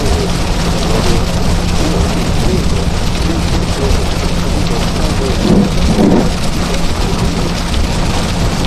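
A severe thunderstorm in Oklahoma, with heavy rain pouring down loud and steady and low rumbles of thunder rolling underneath. A brief thud near the middle, no voices.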